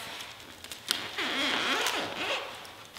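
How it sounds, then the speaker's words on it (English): Adhesive backing is peeled off a sheet on a wooden measuring board, a close, ripping, zipper-like tear lasting a couple of seconds after a few small clicks. "I'm just gonna peel the backing off."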